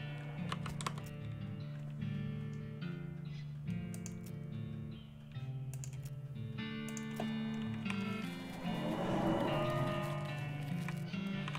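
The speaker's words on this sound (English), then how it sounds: "The portal to hell, you hear ominous mooing." Ominous cow mooing drifts from a hell portal in the West of Loathing video game, low drawn-out moans layered with game sounds and clicking, fairly quiet throughout.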